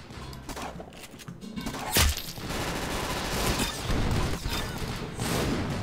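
Rapid gunfire from the Calico in Roblox Arsenal rattles in dense bursts, with a loud boom near the two-second mark amid continuous chaotic game noise.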